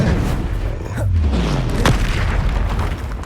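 A Bombardo spell blast in Hogwarts Legacy lands as a single loud, deep boom near the middle and rolls off into a rumbling tail, with no voices.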